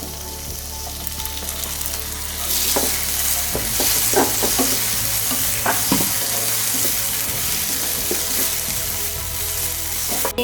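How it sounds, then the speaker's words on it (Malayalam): Chopped tomato is tipped into a hot pan for a cumin potato roast, and the sizzle swells and then hisses steadily, with occasional utensil clicks nearby. "ഇതിലേക്ക് ചോപ്പ് ചെയ്ത് വെച്ച് തക്കാളി ചേർത്ത് കൊടുക്കുക."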